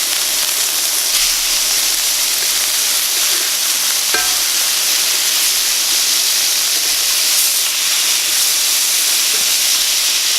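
Flipped fish fillets sizzle steadily in a frying pan, a loud, even hiss of hot oil that continues without a break, with a faint clink of a utensil partway through.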